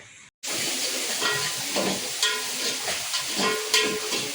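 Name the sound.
frying tempering (tadka) for macaroni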